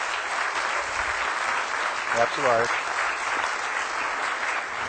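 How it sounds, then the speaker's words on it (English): An audience applauds steadily as a nervous young woman named Sage Price comes up on stage, the dense clapping filling the whole stretch while a brief spoken remark cuts through midway. "would you guys give her a big round of applause as she comes up"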